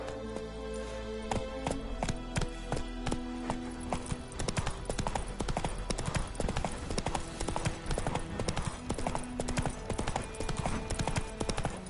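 Roach, the horse in The Witcher 3, clip-clops along in a brisk, steady hoofbeat rhythm with loud, close strikes that quicken after a brief pause, set against a music bed.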